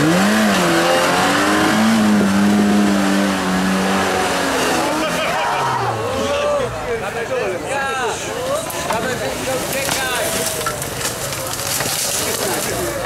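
Off-road vehicle driving through a forest at night during a Midsummer Night off-road event, its engine roaring and revving continuously and loud, with changing pitch, under people's voices.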